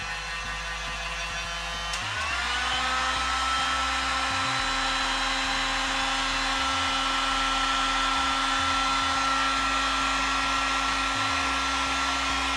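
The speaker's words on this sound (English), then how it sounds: "This is a proper hot air gun, which just gets hotter obviously than a hairdryer." A hot air gun switches on with a click and blows steadily, a loud constant whirring rush with a high motor whine that holds without pause, used to heat Scalextric slot-car track for cleaning and repair.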